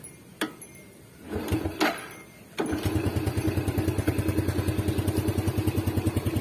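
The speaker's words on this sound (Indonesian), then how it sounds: "Mesinnya itu halus bosku." A motorcycle engine with a faulty ignition switch and a dead battery clatters as it is started, then settles into a steady, even idle with a smooth rapid thump, close by.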